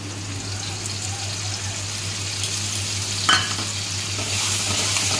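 Garlic and fifteen green chillies stir-fry in hot oil for a red chicken curry, a constant close sizzle over a low hum, with a sharp scrape of stirring midway and a brighter surge of frying near the end.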